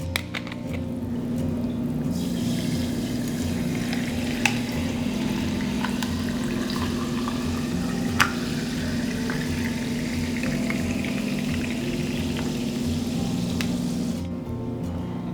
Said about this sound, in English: Now I'm just gonna tap it out with club soda.